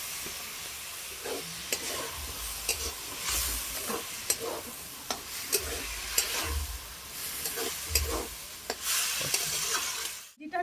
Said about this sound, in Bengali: তো আরও কিছুক্ষণ খুব ভালোভাবে আমি এটাকে কষিয়ে নেব।